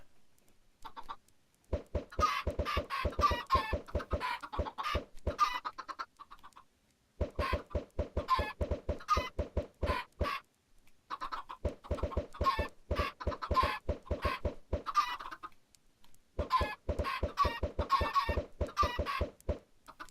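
Chickens in the video game Minecraft cluck in rapid bursts of repeated clucks with short pauses between, close and clear, with no talk over them.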